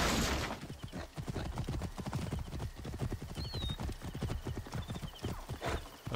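Horse hooves galloping in the video game Assassin's Creed Origins, a fast, steady clip-clop rhythm throughout, close and loud, with a brief whinny partway through.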